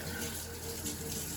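Water poured from a tap into a pan to cook spaghetti squash, a brief steady splashing gush close by with no talking.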